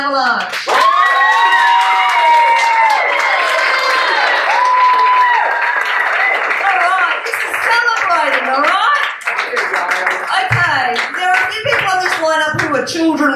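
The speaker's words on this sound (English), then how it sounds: "So I would like a raucous hand of applause for Gail and Avalanche." Audience at an open-mic poetry reading in Adelaide claps and cheers loudly and steadily, with whoops and shouted voices riding over the applause for most of the stretch before it thins into scattered calls.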